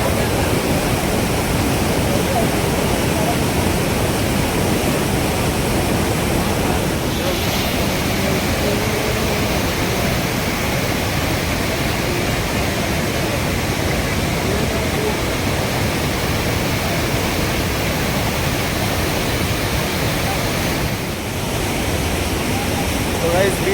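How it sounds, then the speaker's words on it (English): Dhuadhar Waterfall at Bhedaghat in Jabalpur roars as a loud, constant wash of falling water, steady and unbroken throughout with no other sounds rising above it. "Guys, we are at Dhuadhar Waterfall at Jabalpur"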